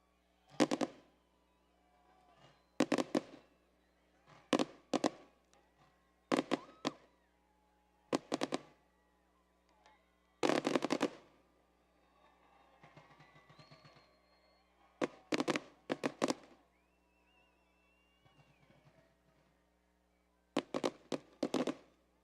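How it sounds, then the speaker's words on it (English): Fireworks bursting at a school district evening event, a dozen or so loud sharp blasts at irregular intervals with crackling tails and quieter gaps between, close and dominant. "Wow, more fireworks to come."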